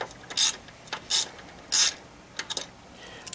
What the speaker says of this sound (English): you don't have to use this long of a ball end ratchet